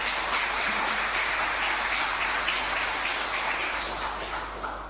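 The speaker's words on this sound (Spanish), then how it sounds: "damos gracias con un fuerte aplauso" Congregation applauding during a church Mass, a steady, dense wash of clapping that holds for the full stretch and fades slightly toward the end, with no talking over it.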